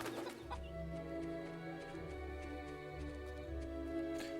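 Chickens cluck in the Fable video game, a run of soft, repeated fowl clucks over steady in-game background music and ambience, faint and without any talking.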